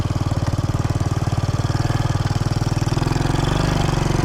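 A Honda Trail 90 motorcycle fitted with a larger sprocket chugs steadily at low revs, walked up out of a ditch, its single-cylinder putter loud, close and even throughout.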